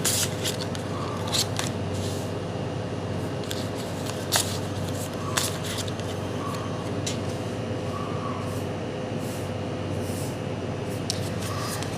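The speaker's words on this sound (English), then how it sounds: "So as I shuffle the cards and set up the reading" Tarot cards are shuffled with soft, repeated riffling and sliding clicks over a steady low hum, with faint speech in the background.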